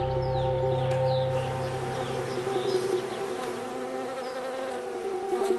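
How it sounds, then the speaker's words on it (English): Honey bees brought in to pollinate a California almond orchard hum in a dense, continuous buzz, with individual bees droning past close by over the steady swarm drone, and no voices. "billions of bees are brought here to help pollinate the almond trees"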